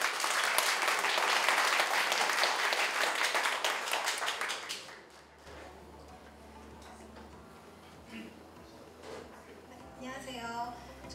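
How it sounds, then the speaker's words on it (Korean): Big round of applause welcomes the final team at a developer meetup challenge final, loud dense clapping for about five seconds before fading into quieter room sounds and faint voices. "큰 박수로 맞아주시기 바랍니다."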